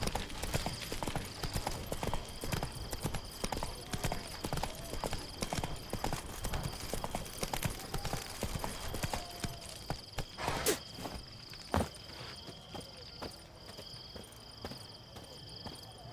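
Horse hooves clip-clop at a steady walking rhythm in The Witcher 3, close and continuous, with crickets and ambient game sounds in the background and brief bits of speech.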